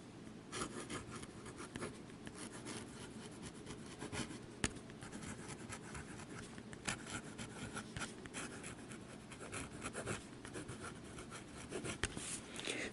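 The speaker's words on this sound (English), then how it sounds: "you can get some finer writing with upside down if that's what you prefer to do" A Delta Dulcevita fountain pen nib, held upside down, scratches across paper with slight feedback in a continuous close, soft scribbling texture with small taps, alone and without talk.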